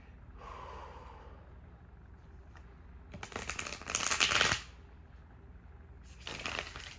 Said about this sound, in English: I like to shuffle in front of the camera